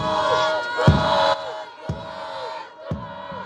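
A home crowd at a Bhutan Premier League football match between RTC FC and Thimphu FC roars in bursts, with loud thumping surges and swelling cheers at a distance.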